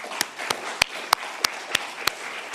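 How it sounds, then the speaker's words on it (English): An audience at a membership meeting applauding outgoing board members, a soft bed of scattered clapping punctuated by evenly spaced, crisp louder claps, moderately quiet and steady. "So let's give them a round of applause."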